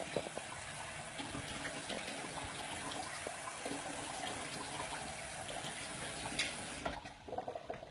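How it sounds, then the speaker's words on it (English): Water pouring steadily into a bowl to make pizza dough, a continuous close gush that runs for several seconds and then tapers off near the end. "I basically added a little bit of water, so it's like half a bowl."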